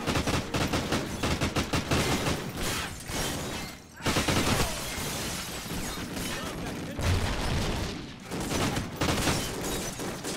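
Gunfire in Call of Duty: Ghosts, with rapid machine-gun bursts rattling almost continuously, loud and close, with brief pauses and explosive booms mixed into the dense battle noise.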